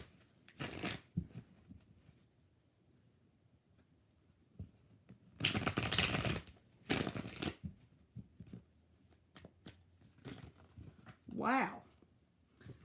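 Tarot cards are shuffled by hand in several short, crisp riffling bursts separated by quiet pauses, close by, with a voice speaking softly between some of the shuffles.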